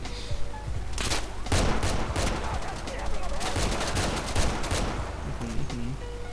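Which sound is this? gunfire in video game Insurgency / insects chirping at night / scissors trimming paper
gunfire in video game Insurgency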